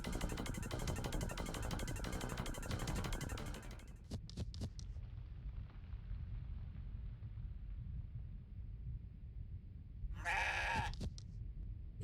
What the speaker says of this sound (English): Excited goat noises.